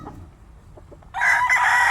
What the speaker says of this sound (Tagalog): manok ko na talaga yung ilalaban ko dito.